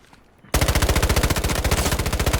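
A rapid burst of automatic gunfire in the shooter game Delta Force starts abruptly and hammers on in a loud, fast, even rhythm of shots for about two seconds.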